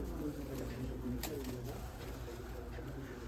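Pigeons coo softly and repeatedly in a loft, low throaty calls close by, with some talking and faint background noise.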